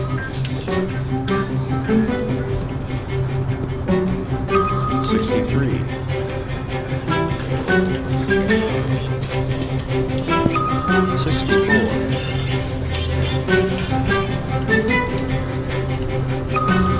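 A FitnessGram Pacer beep test recording plays continuously: a steady bed of tones, with bright, bell-like beeps recurring at intervals across the whole stretch.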